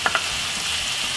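Callaloo and sweet corn sizzle in a hot pan, a bright continuous frying hiss with two quick clatters at the start, close and alone.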